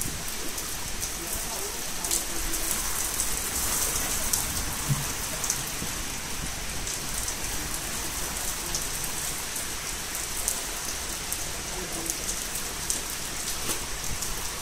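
Steady rain falls during a thunderstorm in Berlin, a dense continuous hiss of drops hitting surfaces, fairly loud and unbroken throughout with no clear thunder standing out.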